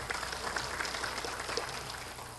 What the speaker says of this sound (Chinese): 那我们跟他鼓掌欢迎他们一下。